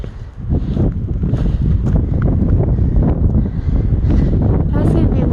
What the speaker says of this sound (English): That's gonna be windy and cold for sure.